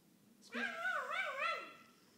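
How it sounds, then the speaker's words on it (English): A single drawn-out, wavering high-pitched yelp from a puppy, more of a whiny howl than a sharp bark, close and fairly quiet. "Puppy go bow wow?"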